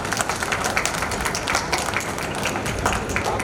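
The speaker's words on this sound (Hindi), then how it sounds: "माननीय मंत्री जी का हाथ ताली बजा करके स्वागत कीजिए" An audience claps in welcome for a minister at a homoeopathic seminar in Kashipur, a steady, dense patter of many hands that holds at an even level throughout.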